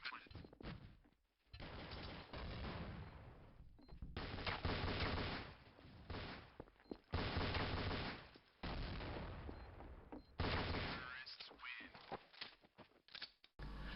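Rapid gunfire from a competitive tactical shooter match, with bursts of automatic fire and single shots in dense, loud clusters broken by brief pauses, over narration and game sounds.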